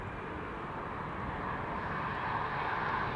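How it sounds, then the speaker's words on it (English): A KLM airliner arriving at Amsterdam Schiphol Airport: a steady, broad jet engine roar, moderately distant and unbroken, with no voices. "KLM flight 972 arriving from Humberside"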